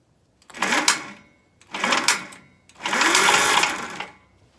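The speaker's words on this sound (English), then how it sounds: "this old starter motor might not have enough oomph" Old starter motor on a 1959 Gravely tractor cranking with no load, three whirring bursts, the last one longer, each rising and then stopping, close and fairly loud.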